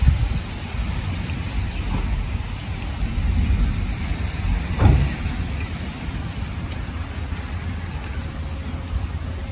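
Steady rain falls outdoors in Japan, a continuous broad hiss with a faint low rumble and one brief louder swell partway through, with no voices.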